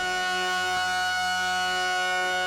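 A steady, buzzy tone from a 4MS Ensemble Oscillator with rich harmonics holds level throughout, bright and sustained with a faint flicker partway.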